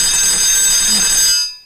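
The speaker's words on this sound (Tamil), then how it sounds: "என்னடா இது கரெக்டா 5 மணிக்கு அலாரம் அடிக்கும்ல" An alarm clock rings with a piercing, steady high-pitched electronic tone, loud and close, holding continuously before cutting off abruptly and leaving silence.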